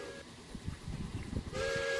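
A locomotive whistle in the RO-Scale Sandbox railway game, with a short steady blast at the start, a rumbling lull, then a second louder sustained whistle tone.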